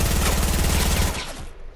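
A compact SMG in the Fortnite video game fires a rapid, dense burst of shots for about a second and then cuts off abruptly, leaving a fading tail.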